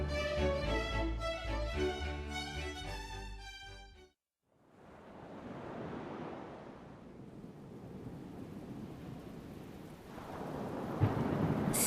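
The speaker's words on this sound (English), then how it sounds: "Suddenly, a storm came. The sky was very angry, and the wind was very strong." A fierce sea storm with rolling thunder, heavy rain and strong wind rushes in after music cuts to a brief hush, a steady loud roar that swells again near the end with a sharp crack.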